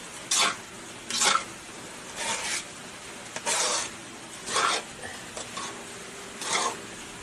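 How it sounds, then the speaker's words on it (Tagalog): Biko, a sticky rice cake, is stirred in a pan with repeated scraping, rasping strokes, about seven distinct bursts in an irregular rhythm over faint background sizzle, close and moderately loud. "Kailangan haluin niya guys para di masunog ang ilalim."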